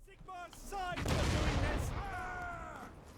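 A heavy booming cannon blast from a Warhammer multiplayer battle, a broad rumbling explosion rising over background game sounds and brief voices.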